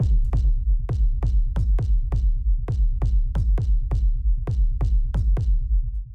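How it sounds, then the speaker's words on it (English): Two-layer industrial techno kick drum at 134 BPM, booming deep low end with a short clicky top, about sixteen steady hits in a row, loud and dry with no other sounds. "It's the kick, which sounds like this."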